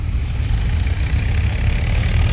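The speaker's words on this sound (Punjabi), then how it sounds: "ਵੇਖੋ ਟਰੈਕਟਰ ਲੱਗਿਆ" A tractor engine idling at a steady low rumble in a flood-damaged farm field in Punjab, close, loud and continuous, with no voices over it.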